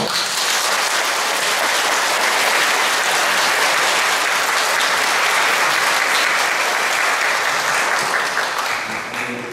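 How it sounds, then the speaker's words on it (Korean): A large church congregation claps loudly and continuously, a dense, sustained applause that holds steady for several seconds before tapering slightly at the end. "뜨거운 박수로"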